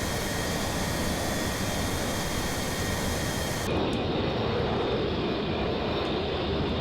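A Republic F-84F jet fighter engine gives a steady, loud broadband roar that keeps a constant level throughout, its tone darkening partway as the high hiss drops away.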